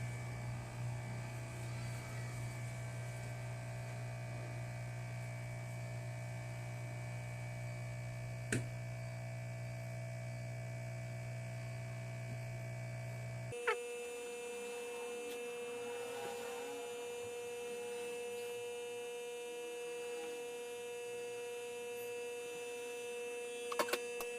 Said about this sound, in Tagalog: Hintayin natin ang hot air para mabilis tumuyo.